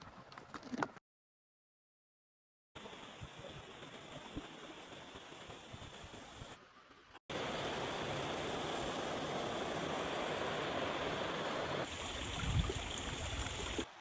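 A small stream flows past a house along a quiet village road in rural Nagano, a steady broadband water rush that drops out briefly near the start, then continues loud and unbroken with no voices.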